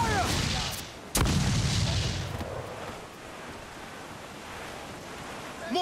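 A sharp, loud cannon or mortar blast from a ship in the video game Assassin's Creed IV, followed by a fading rumble over a bed of sea surf and wind.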